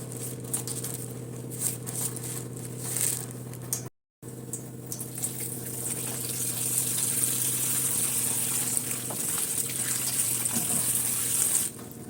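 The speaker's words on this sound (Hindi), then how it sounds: "अब ये देखो पानी डाल को हम भिगने रख डालेंगे साइड में" Tap water runs steadily into a bowl to soak drumsticks (moringa pods) in a home kitchen, a continuous close gush with a brief cut partway through, then running on alone.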